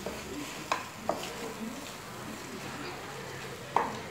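Rice being stirred into a ghee and masala mixture in a pot for egg biryani, with soft scraping and a few sharp clinks of a spoon against the pot over a low background hiss.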